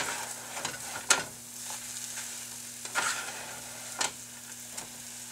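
Green onion is stirred into low carb fried rice in a pan: a soft sizzle runs underneath while a spatula scrapes and taps the pan at a few irregular moments.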